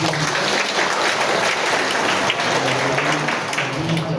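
A church congregation at an evening worship service applauds with dense, sustained clapping that stays loud and even throughout, with no clear voices on top.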